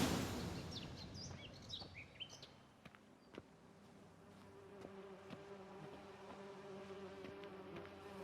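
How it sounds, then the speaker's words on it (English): Bees buzz in The Witcher 3: Wild Hunt: a close, steady insect drone with fluttering pitch sweeps, soft bird chirps and faint clicks behind it, and no talking. "Damn bees."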